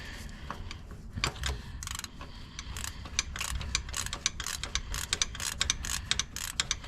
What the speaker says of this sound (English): Bottom bolt, I gotta use a smaller ratchet and the extension because of this bar right here.